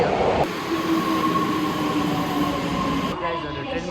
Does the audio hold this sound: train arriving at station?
yes